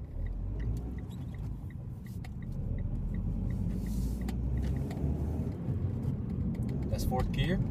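Mitsubishi Lancer GT engine under way in fourth gear, a steady low rumble with road noise holding level throughout, plus a faint rising whine near the end.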